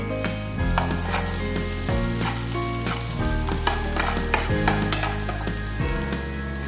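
Garlic sautéing in cooking oil for Filipino eggplant adobo, a loud continuous sizzle and crackle with scraping stirs throughout.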